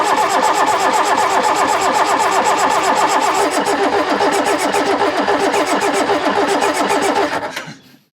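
A catamaran's boat engine cranks and runs loudly and steadily for about seven seconds with a dense mechanical rattle, then cuts off abruptly near the end.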